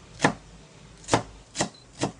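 A knife chops kaffir lime leaves and spring onions on a board in a home kitchen, four distinct close strokes at an uneven rhythm with quiet gaps between.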